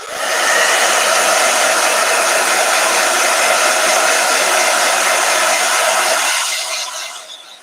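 A blow dryer runs steadily at close range with a loud, even whoosh for about six seconds, then switches off and fades out near the end.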